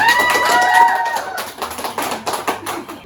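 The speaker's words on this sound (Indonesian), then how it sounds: "Beri tepuk tangan semuanya." A class of students gives a round of applause in a classroom, a burst of scattered close claps that follows a brief voice at the start.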